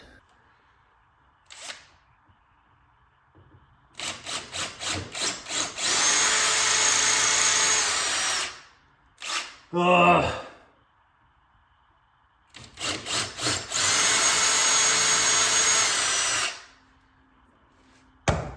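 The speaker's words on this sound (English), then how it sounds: "I'm gonna start drilling in just a second." A power drill whines in two long, steady bursts into a cinder block wall, each starting with a few short revving pulses, with a brief grinding clatter and a grunt between them.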